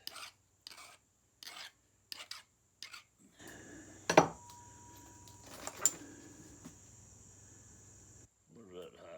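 A chert stone point has its edge sharpened with short, dry rasping strokes, a string of brief scrapes followed by a longer grinding pass with a steady hum underneath.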